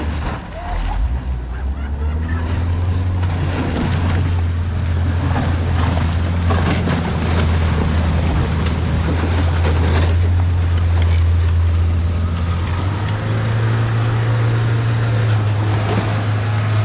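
A boat motor drones steadily on open water, a low constant hum that shifts slightly higher near the end, with wind and splashing waves throughout; someone talks briefly over it.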